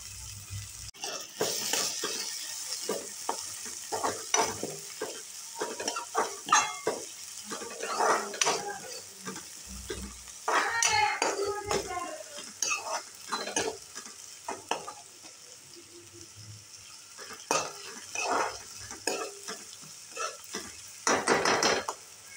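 Finely chopped onion frying in hot oil and butter for butter pav bhaji, a continuous sizzle broken by repeated scraping and stirring strokes of a spatula against the pan, close and fairly loud.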